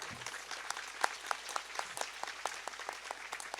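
Audience at a Hindi devotional discourse and yajna gathering clapping in a steady run of sharp, separate claps, moderately close and fairly faint, with no talk over it.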